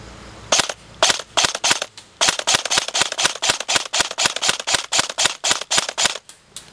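An airsoft CODE-8 PTW gun fires about two dozen sharp, close semi-automatic cracks in a quick, fairly even cadence, with a short pause after the first few shots.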